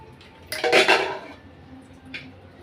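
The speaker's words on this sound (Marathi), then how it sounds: "कुकर उघडून बघणार आहोत." A metal pressure cooker lid is opened after cooking broken-wheat kheer. One loud clattering scrape of metal on metal is followed by a shorter, fainter clink, in a quiet kitchen.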